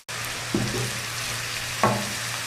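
Cabbage and other vegetables stir-fry on high heat in a pan for restaurant-style Chinese fried rice, with a steady loud sizzle and two sharp stirring knocks, no talking.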